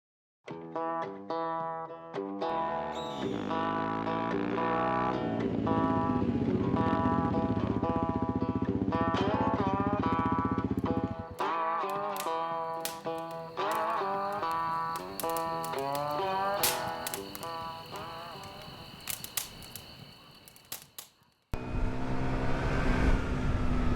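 A brand-new, cold, carbureted Honda XR150L motorcycle engine bogs while warming up. Its close, steady drone wavers as revs rise and sag, then cuts out briefly before resuming.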